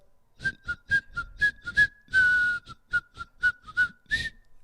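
A person whistles a bright, bouncy tune of short notes with one longer held note, close and clear, no talking.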